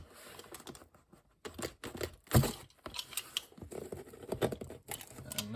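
A taped cardboard shipping box is opened up close, with bursts of crinkling, tearing and scraping cardboard in irregular clusters separated by short quiet gaps.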